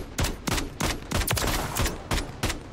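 Rapid gunfire bursts from a first-person shooter match in Call of Duty Modern Warfare 3 Search and Destroy, likely the RAM-7 rifle: loud, close volleys of shots in quick succession, with short gaps between bursts.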